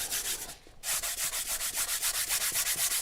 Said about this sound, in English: we're going to take one of my little sanders. I'm using the fine side for this.